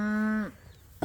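A single cow gives one loud, drawn-out moo, close by in a grazed bermuda grass pasture, then cuts off into quiet outdoor background with a faint noise at the very end.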